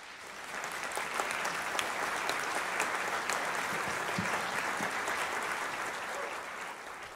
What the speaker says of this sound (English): with a long round of applause